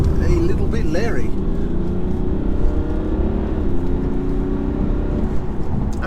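A 2018 BMW 430d coupe with a diesel engine and a quick-shifting automatic gearbox drives along with a steady, loud engine drone and road rumble inside the cabin. The pitch shifts slightly as it accelerates, and someone talks over it.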